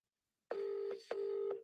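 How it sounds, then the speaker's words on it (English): Phone ringing in two short bursts, each a steady electronic tone with a brief gap between them, clear and alone after silence. "He's ringing me."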